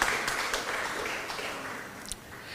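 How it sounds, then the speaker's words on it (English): An audience at a memorial lecture claps together in a steady wash of applause that gradually fades, moderately loud, with a few sharper individual claps near the end. "Please give Dr. Richards a round of applause."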